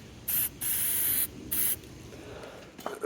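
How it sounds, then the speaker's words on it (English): Three short test bursts of coating hiss from an aerosol can, close and loud, separated by brief pauses, followed by a faint rattle, before spraying inside a Jeep YJ's frame and body cavities. "I'm gonna pre-spray this real quick just to make sure we've got paint coming out."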